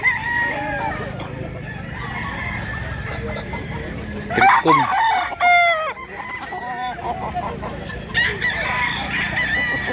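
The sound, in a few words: roosters crowing and clucking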